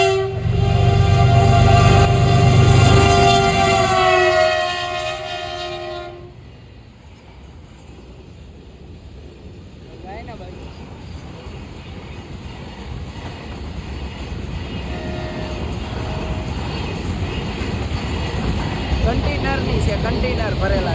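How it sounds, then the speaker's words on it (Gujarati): A long container freight train rumbles past close by near a railway crossing, a loud horn blaring at the start, then a steady clattering roll of wagons with voices talking over it. "મિત્રો જો અહીં અમારે ટ્રેન આવે છે"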